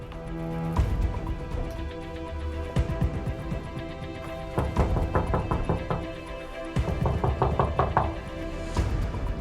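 Knocking on the front door of a rental house, several bursts of firm, close raps repeated after pauses, with no one answering.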